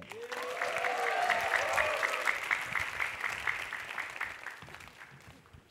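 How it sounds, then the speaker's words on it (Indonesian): A comedy show audience breaks into sustained applause, loud and steady at first, then gradually thinning out over several seconds. "Dari Bogor langsung aja kita sambut tepuk tangan yang meriah untuk Ridwan Remin."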